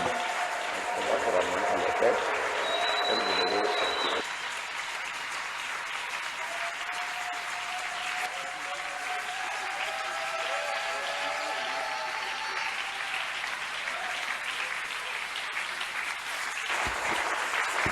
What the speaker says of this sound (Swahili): Tumchapie mara tena Bwana makofi